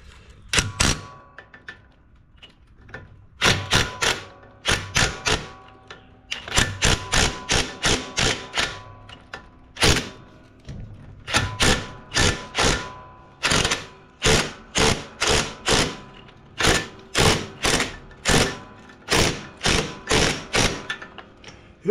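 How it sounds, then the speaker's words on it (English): An electric impact wrench hammers at a bolt on a Cub Cadet CC30H riding mower in repeated loud, rattling bursts of a second or two, separated by short pauses, with no talking. "let me try my electric impact instead of that air powered"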